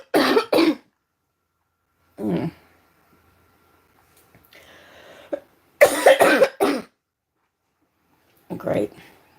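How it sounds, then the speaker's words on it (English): Several harsh, close coughs come in separate bursts with short quiet gaps between them, plus a faint rustling partway through. "this cough does not want to go away"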